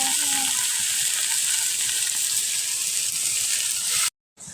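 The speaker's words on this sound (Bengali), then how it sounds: "এখন শাকটা দিয়ে দেবো।" Leafy greens sizzle in a pan with cumin, onion, chili and garlic, giving a loud, steady frying hiss that cuts out briefly near the end.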